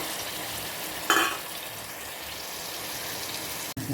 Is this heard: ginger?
yes